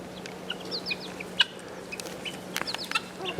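Two male guinea fowl call out in a garden, giving a few short, sharp squawks spread over a few seconds against a steady low background hum.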